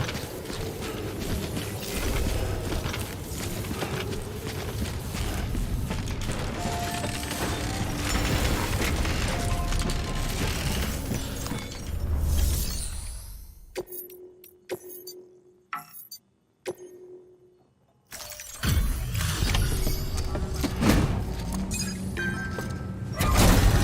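Dense whirring, clanking suit-decontamination machinery from the video game Death Stranding runs loud and steady, then breaks into scattered sharp clicks and hisses with near-silent gaps before the mechanical roar returns.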